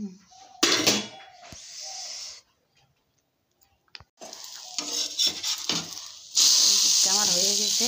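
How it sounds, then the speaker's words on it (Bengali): Vegetable paratha frying in a pan for a breakfast dish, a steady sizzle that drops out briefly mid-way and returns louder, with a few clicks and utensil scrapes of turning the flatbreads, and a voice speaking near the start. "উলট পালট করে এরকম করে ভেজে নিব সবগুলা"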